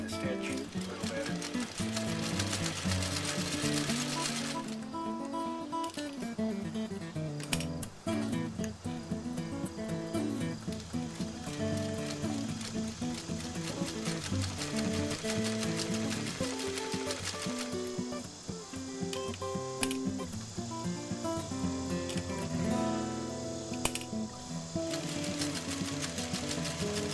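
A 1951 Singer 301 sewing machine stitches at a longer stitch length in long runs, its close mechanical whir rising and falling as it speeds up and slows, with brief pauses between bursts.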